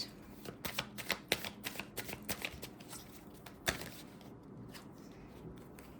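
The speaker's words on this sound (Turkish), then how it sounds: "Üç kart alacağım ilişkinin dış görünüşüyle ilgili." Tarot cards are shuffled and handled up close, with a rapid run of soft riffling flicks followed by a few quieter slides and taps as cards are drawn.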